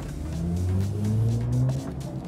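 A BMW i4 M50 electric car with front and rear motors, 544 horsepower, accelerates hard, giving a sustained rising whine and road rumble that swells and holds steady, close and fairly loud, with no talk.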